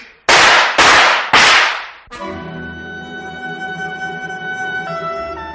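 Three sharp, loud gunshot-like cracks in quick succession, followed by a sustained droning musical tone that lingers underneath.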